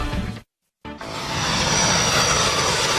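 A jet airliner engine roars steadily after a brief silent gap, loud and sustained with a broad rushing whine.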